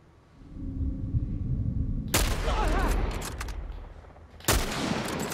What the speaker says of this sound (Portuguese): tu deu dois tiros de rifle nele e ele não morreu